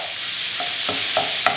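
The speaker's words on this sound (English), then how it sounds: "We're going to start stirring it in with our onions" A spatula stirs and chops ground meat browning with onions in a hot pan, giving a steady sizzle with several distinct scraping strokes, close up and with no talking.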